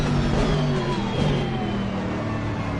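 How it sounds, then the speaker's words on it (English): Aston Martin race car engine at Donington Park in a two-hour endurance race, a loud, steady high-revving drone heard from on board with a strong sustained tone and no talk. "Man, that Aston Martin is flying."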